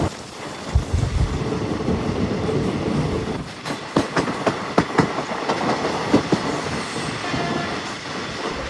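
A moving passenger train rumbles steadily while its wheels beat a clickety-clack rhythm of sharp clicks on the rails. A few louder clacks stand out near the middle.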